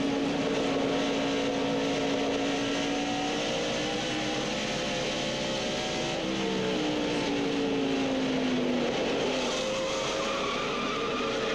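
NASCAR Winston Cup stock car engine heard from the in-car roof camera at Bristol in 1995, a steady loud roar with rising and falling engine tones as the car races, continuous and alone for the whole clip.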